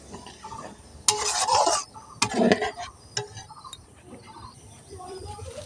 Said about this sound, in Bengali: এই যে নারকেলের দুধটা দিয়ে দিচ্ছি ভালো করে নেড়ে নেবো